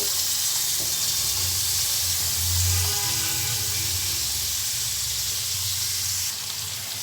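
Shredded cabbage and chopped carrot fry in ghee in a pan, producing a continuous loud hiss and sizzle that stays steady throughout, with no talking.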